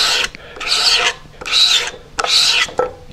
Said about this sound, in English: it's a scraper.